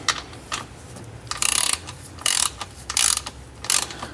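Socket ratchet clicking in short bursts as it tightens the drain bolt on a BMW E36 M3 differential, close by and fairly quiet, with several separate runs of rapid pawl clicks and no talk.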